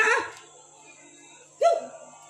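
A dog barks twice, a sharp yelp at the start and another about a second and a half later, both close and fairly loud, with quiet background hum between them.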